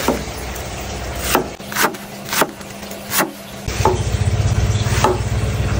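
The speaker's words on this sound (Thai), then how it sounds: "ขั้นแรกก็แกงครึ่งกระหล่ำนะครับแล้วก็ตัดแกนมันออกอย่างนี้นะแล้วก็หั่น" A knife chops half a cabbage on a wooden board, giving several separate sharp knocks at uneven intervals over a steady low background hum.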